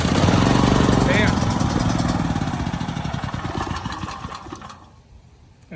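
Firman 9400 dual fuel generator engine sputtering on choke, loud and close at first, then dying away toward silence within a few seconds.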